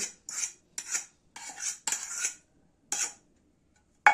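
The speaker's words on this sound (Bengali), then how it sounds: "এবার আমি ময়দার মধ্যে ওই ব্যাটারটা দিয়ে দেবো।" Cake batter is stirred into flour in a bowl by hand, making a series of short, quiet scraping and clinking strokes separated by brief pauses, with a sharper tap at the end.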